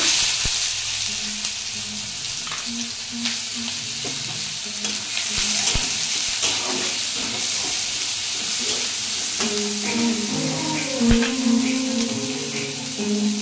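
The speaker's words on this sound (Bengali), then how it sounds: "ওই কড়াইতে আমি পেঁয়াজ কুচি দিয়ে দেবো।" Chopped onions fry in a wok with loud, continuous close-up sizzling, broken by repeated scraping and stirring of a spatula against the pan.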